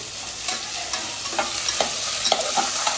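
Sliced onions for prawn biryani sizzle loudly in a pan and are stirred with a spoon, giving a continuous close frying hiss broken by repeated soft scrapes and clinks at a steady pace.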